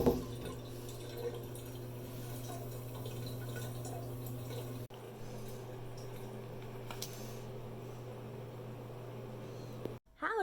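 Bath tap running steadily, a continuous close, moderately faint rush and patter of water filling the tub, with a brief break near the middle and a cut-off at the end.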